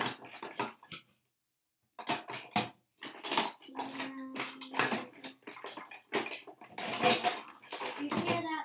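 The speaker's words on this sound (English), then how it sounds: "If you hear that, that's just all the dishes" Dishes and cutlery clatter in a home kitchen in short, irregular bursts of clinks and knocks, fairly close, mixed with people talking and a brief silent gap.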